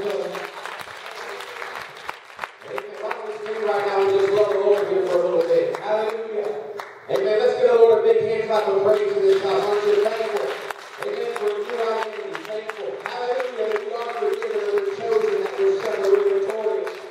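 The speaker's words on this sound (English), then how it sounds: "Give the Lord one more hand clap of praise this afternoon." A church congregation at a First Apostolic Church gives a sustained round of hand clapping in praise, dense and steady throughout with cheers and voices mixed in.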